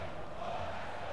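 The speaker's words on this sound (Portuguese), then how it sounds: "Torcida canta para incentivar o time." A stadium crowd chants in PES 2016 during a Brasileirão match against Ponte Preta, a faint, continuous roar of many voices with no clear individual words.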